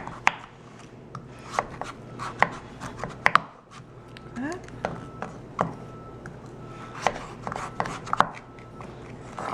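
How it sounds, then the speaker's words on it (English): A knife chopping baked butternut squash on a board, a series of sharp irregular taps spread across the clip, fairly close and moderately loud, with a brief quieter pause midway. "now I'm going to flip it over, and I'm just going to chop it."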